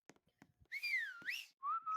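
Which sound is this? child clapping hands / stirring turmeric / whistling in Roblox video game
whistling in Roblox video game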